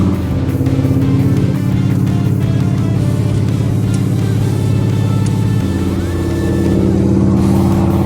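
A 1971 Chevrolet El Camino engine runs loud and steady on a chassis dyno, a deep continuous roar with a shift in pitch partway through, holding strong to the end with no talk.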